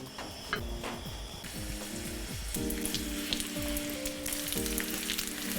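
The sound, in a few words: rolls frying in grapeseed oil in a skillet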